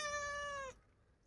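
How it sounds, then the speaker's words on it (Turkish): A domestic cat gives one clear, drawn-out meow close by, with quiet room noise after it and no talk. "Bu da Nurcan'ın kedisi"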